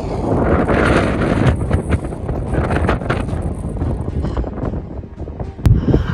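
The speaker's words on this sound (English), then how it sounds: "Super windy." Strong wind roars and buffets the microphone continuously on a Death Valley trail below Manly Beacon, with gusting surges and no voices.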